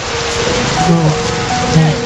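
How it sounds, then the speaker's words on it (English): Heavy torrential rain pours in a loud, dense, steady hiss, with faint low tones beneath it. "On the 18th day, the torrential rain intensified."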